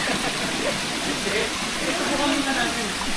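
Cold water running down from a mountain in a clear stream, a steady broadband rush of flowing water that continues without break.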